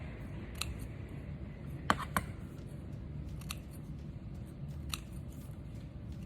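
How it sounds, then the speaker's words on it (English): Scissors cut paper into small pieces for a sunflower paper mosaic, making a few sharp, quiet snips spread unevenly over a low room hiss, with no talking. "I'm going to take this and I'm going to cut this part into little pieces"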